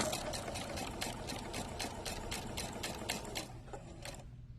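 A sewing machine runs a steady, rapid stitch along a garment's bias-faced neckline, close and even for several seconds before slowing and stopping.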